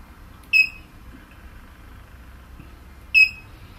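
Two short, high electronic beeps from an Autel DS 708 car diagnostic scanner, spaced a few seconds apart, clear and close over a low background hum, with no talking.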